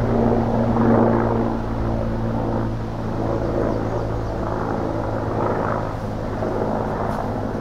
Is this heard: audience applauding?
no